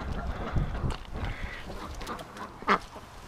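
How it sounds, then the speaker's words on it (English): Injured duck held in someone's hands indoors in winter, giving a single short, loud quack near the end, with soft handling rustle and low background noise. "Yeah, Doug, it's a duck in my hands."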